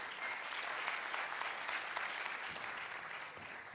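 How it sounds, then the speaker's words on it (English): A crowd at a 2018 science and maths quiz mentorship session keeps clapping in a dense, even wash of applause that fades slightly toward the end. "you have to let her see you clapping."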